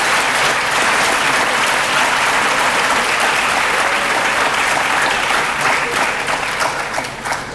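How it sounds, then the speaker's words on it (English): Sustained applause from an audience at a distinguished alumni award ceremony honoring past recipients, a dense, steady clatter of many hands that holds throughout and eases slightly near the end. "Please give all these honorees a round of applause."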